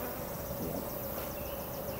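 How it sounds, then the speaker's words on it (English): Honeybees hum steadily at a hexagonal hive, a dense close buzzing swarm that stays even and continuous throughout with no voices over it. "Super calm bees too."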